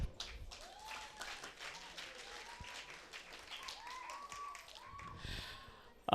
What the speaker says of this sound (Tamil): நீங்கள் உங்களை பாராட்டி கைத்தட்டிக்கோங்க